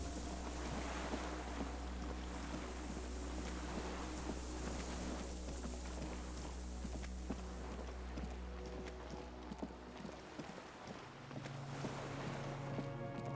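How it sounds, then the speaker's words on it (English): Distant cargo ship signal horns echo across the water in the video game Disco Elysium, low sustained drones that shift pitch partway through, set under steady wind and lapping wave noise with no talking. "The distant sound of cargo ships. Signal horns echo on the water."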